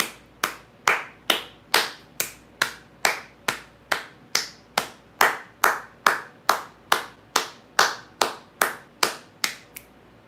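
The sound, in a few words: hands clapping in celebration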